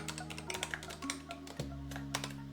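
Python code being typed on a computer keyboard, a run of quick, close key taps in uneven bursts over a steady low electrical hum.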